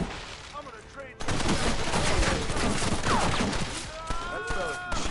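Gunfire from Red Dead Redemption (2010): a loud, dense burst of overlapping shots erupts after a quieter opening and keeps rattling steadily, with game voices speaking over the shooting near the end.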